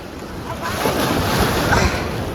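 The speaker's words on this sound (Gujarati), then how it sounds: "મોજ આવ્યો મોટો" A big sea wave surges and roars close by on the shore during net fishing, a broad rushing wash of water with wind buffeting over it.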